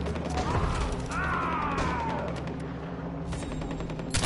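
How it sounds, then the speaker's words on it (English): Pump-action shotgun in Far Cry 4 firing and being racked: a blast followed by mechanical clacking of the pump action, over continuous loud game ambience with a rising whine, heard close and without talk. "This shotgun's so bad."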